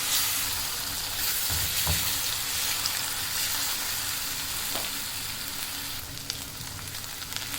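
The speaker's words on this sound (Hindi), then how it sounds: "अब इसमें मैं ये चॉप किया हुआ प्याज शामिल कर दूँगी। इसको हल्का सा सुनहरा करेंगे" Chopped onions sizzle and crackle steadily in hot oil, a close, continuous frying hiss with occasional stirring scrapes and no talking.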